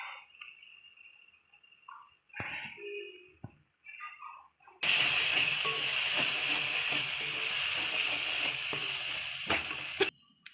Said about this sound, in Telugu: ఇదంతా ఆయిల్లో మిక్స్ అయిందండి ఇది కొంచెం వేగడానికి వదిలేద్దామండి